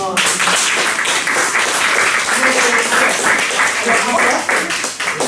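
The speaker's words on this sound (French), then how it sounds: "Et je crois qu'on va encore vous applaudir." Audience at a poetry gathering in a community hall applauds warmly, a steady wash of clapping throughout with a voice speaking briefly at the start.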